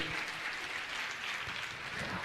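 A large audience applauds continuously and loudly at a religious gathering, a steady dense wash of clapping with no pauses.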